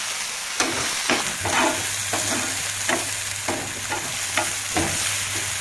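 Dhaba-style paneer curry masala with kasuri methi fries in a pan, a steady bright sizzle broken by regular scrapes and knocks of a stirring spoon, close and with no talk.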